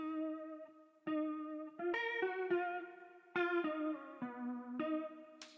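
A sustained, detuned guitar-like tone with a slow wobbling pitch, several notes changing across a few seconds, heavy effects and no voices.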